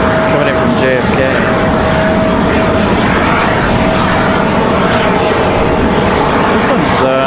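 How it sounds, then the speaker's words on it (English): A plain white Contour jet arriving from JFK at Raleigh Durham airport touches down on a windy day, its engine roar loud and steady throughout, with a constant tonal whine and a voice talking over it. "Public Airways 4658 is going to be our next arrival."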